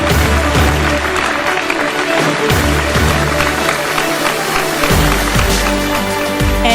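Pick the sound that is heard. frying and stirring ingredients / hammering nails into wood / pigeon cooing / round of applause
round of applause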